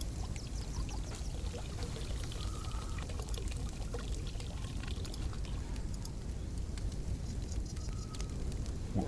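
Water pours steadily from a water source in the video game ArmA 3, a soft continuous trickle and splash heard alone at low level throughout.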